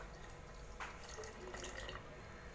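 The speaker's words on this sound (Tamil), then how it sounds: "இப்போ இதில் மீதம் இருக்கிற பால் ஆட் பண்ணிக்கலாம்." Milk being poured into a mixer jar of ground dates while making a dates milkshake, a steady, close liquid pour and splash lasting the whole moment, with no talking.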